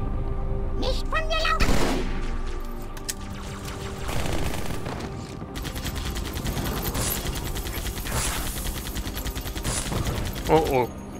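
Rifle fire and battle noise in Halo 2 street fighting, a steady stream of shots and blasts at moderate loudness, with someone speaking over it.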